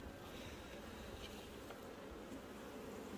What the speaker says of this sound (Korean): 굉장히 많은 양의 꿀벌이 지금 동양종 꿀벌이 들어왔습니다